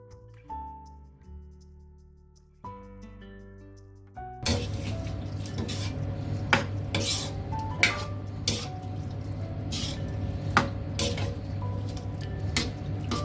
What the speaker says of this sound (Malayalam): ഇനി നമുക്ക് അതിലോട്ട് ഈ വേവിച്ച് വെച്ച് കടല ഇട്ട് കൊടുക്കാം.